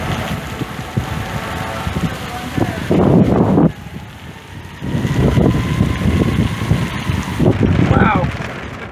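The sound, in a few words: strong wind during a storm in Kansas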